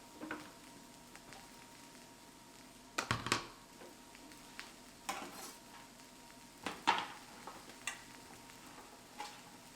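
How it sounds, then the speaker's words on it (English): Mini sweet peppers rolled around in hot oil in a pan give a soft, steady sizzle, broken by several loud scraping clatters and knocks of cookware at irregular intervals. "So let me roll these around some oil real quick."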